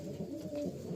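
Pigeons coo in a loft, a steady low rolling coo repeating throughout, close and clear with no talk.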